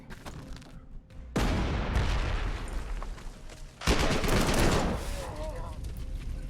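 Artillery fire in the WWII strategy game Panzer Corps 2: two heavy, loud bursts of booming gunfire, each rumbling and fading over a second or more, with a quieter stretch before the first.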